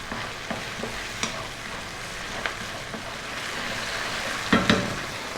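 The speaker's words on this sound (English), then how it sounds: "we're going to go for another 3 minutes, stirring pretty much all of the time" Tomato paste and brown sugar are stirred in a wok over a steady frying sizzle, with occasional soft scrapes and clicks of a utensil against the pan close by and two louder knocks near the end.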